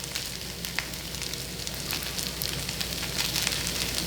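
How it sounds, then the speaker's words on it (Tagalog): Tuna sizzles on a hot plate with a steady crackling hiss and scattered small pops, close and continuous, with no talking. "At maririnig naman ninyo yung tunog ng tuna na naluluto na."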